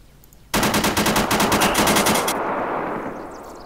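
Automatic gunfire in the video game Arma 3, a loud rapid burst of about a dozen shots followed by a fading echo and no talk.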